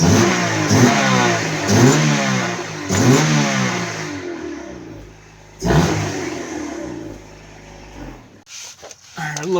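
A car fitted with a newly installed DNA exhaust system revs repeatedly in sharp rising bursts, then settles toward idle with a few more blips. The sound is loud and close, with someone talking over it.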